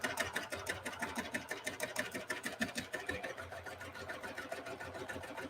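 A sewing machine running a triple cover stitch along a curve without a curve foot, giving a fast, even mechanical chatter of needle strokes that holds steady throughout, close and fairly quiet.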